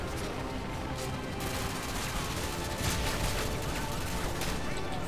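Gunfire in the video game Modern Warfare 2 during co-op Spec Ops, dense rapid bursts of shots and crackling fire filling the whole clip, with players' voices mixed in.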